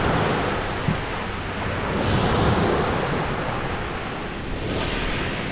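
Steady roar of ocean surf with waves washing in, broadband and continuous, swelling slightly midway, with some wind noise against the microphone.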